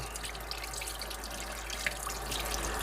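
Tap water runs steadily into a sink as a whole quail carcass is rinsed out on the inside, a continuous close splashing wash with small drips and spatters on top.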